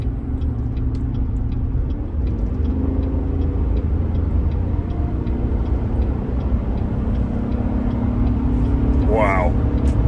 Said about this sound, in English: let's get some acceleration going